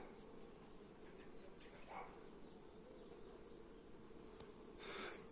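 Honey bees buzz around a hive split in an apiary, a dense, steady swarming hum throughout with occasional individual bees passing closer, and no voices.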